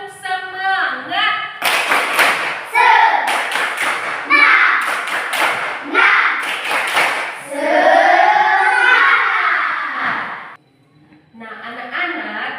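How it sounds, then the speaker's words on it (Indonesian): Schoolchildren in a multi-grade classroom performing the tepuk semangat clapping chant: bursts of rhythmic group claps and taps alternating with loud chanted voices, ending in a short pause before more chanting. "Ibu akan mengajak kita semua untuk tepuk semangat dulu"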